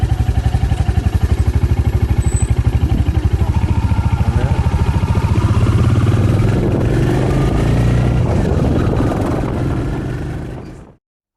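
A Royal Enfield Hunter 350 carries a pillion rider, its single-cylinder engine a loud, steady, close thumping drone with a slight rise in pitch. It runs on without pause and then cuts off abruptly at the end.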